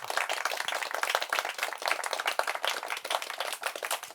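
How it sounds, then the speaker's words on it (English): Audience at a soil and food panel talk applauds the panellists, a steady dense burst of clapping from many hands that runs without pause for about four seconds, fairly close and even in loudness. "can we have a big round of applause for our panellists?"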